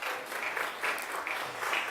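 An audience at a youth development strategy launch in KwaZulu-Natal claps for the deputy mayor, a short, moderately loud burst of applause.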